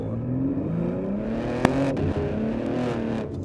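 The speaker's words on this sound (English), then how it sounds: "you touch the throttle a little bit, up it goes, up it goes" A BMW M3 G80 or M2 G87 with an OPF-delete aftermarket exhaust rises in pitch as the throttle is blipped. The engine note climbs and settles, with a sharp pop partway through, loud and close.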